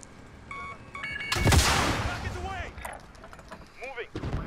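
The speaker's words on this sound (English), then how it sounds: "I don't know from where I'm getting shot from, bruh." Gunfire in Call of Duty Warzone comes as a burst of loud shots followed by scattered, fainter cracks and game effects, with a voice speaking briefly under the action.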